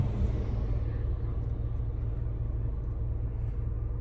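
A car drives along a road on Sumbawa island, heard from inside as a steady low engine and road rumble with no clear change in pace.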